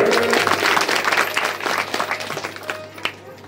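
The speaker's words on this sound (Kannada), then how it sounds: "ಹೊಡಿ ಚಪ್ಪಾಳೆ" Audience clapping at a village temple fair's Purana recitation in Yatnal, dense loud applause from a crowd that thins into scattered claps over a few seconds.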